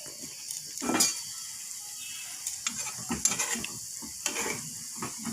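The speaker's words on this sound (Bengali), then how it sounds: "বেশি লাল করব না হালকা করে ভেজে উঠিয়ে নেব" Food frying lightly in a pan, with soft sizzling and intermittent scraping and stirring clatter of a utensil against the pan, close and alone.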